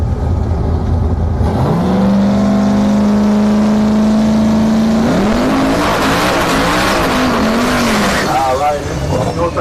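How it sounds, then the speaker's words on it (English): Drag racing car doing a burnout at the starting line of Orlando Speed World, loud engine drone climbing in pitch, then revving and squealing tires, with crowd noise and voices underneath. "let's get the burnouts"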